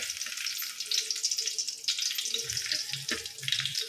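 Garlic fries in hot oil for a tempering, giving a steady bright sizzle throughout with a few soft low stirring knocks near the end.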